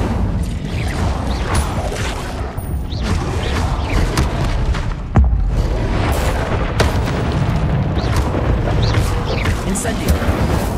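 The Incendio fire spell is cast repeatedly during combat in the Forbidden Forest in Hogwarts Legacy, producing dense, continuous booms, fiery bursts and crashing impacts that stay loud throughout.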